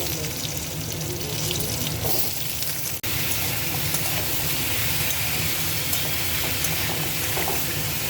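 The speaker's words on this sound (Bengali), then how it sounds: "সূর্যমুখী তেল সানফ্লাওয়ার দিয়ে দিয়েছি আর দিয়ে দিচ্ছি দুটো লঙ্কা কেটে রাখা আলু" Chillies and boiled potatoes frying in sunflower oil in a pan, a steady loud sizzle filling the whole clip with faint stirring and a brief sharp knock midway.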